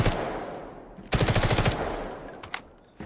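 A machine gun firing with recoil in the video game Delta Force, one short rapid burst of about half a second, loud and close, followed by scattered fainter gunfire cracks.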